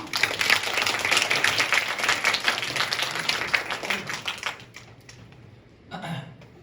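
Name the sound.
audience applause welcoming the curator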